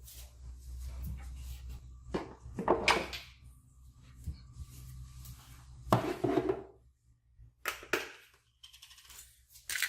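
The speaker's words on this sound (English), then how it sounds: "I want to go ahead and salt and pepper the tomato real quick while this is cooking" Fresh salt and pepper are ground over a tomato beside a cooking grilled cheese sandwich. Several short, crackly grinding bursts come up close, separated by quiet gaps.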